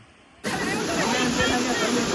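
After a quiet moment, a loud, steady roar of rushing water suddenly fills the sound, close and constant.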